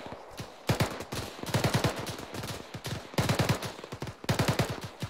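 Covering fire during platoon training, repeated bursts of rapid gunfire in several rattling volleys with short gaps between them, close and loud, no talking.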